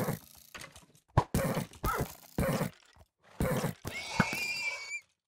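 Minecraft 1.17 horses make a series of short, choppy neighs and snorts, separated by brief gaps, ending in one longer high whinny.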